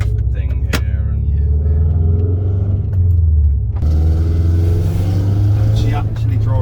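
A Subaru Forester drives on the road with a loud, steady low engine rumble and a brief shift in tone partway through, while people talk inside the cabin.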